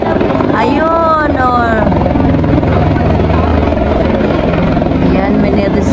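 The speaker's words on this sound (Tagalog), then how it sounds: "Helicopter." A helicopter flies overhead during a mountain rescue near Montserrat, a steady loud rotor drone throughout with a rising whine early on, while people talk nearby.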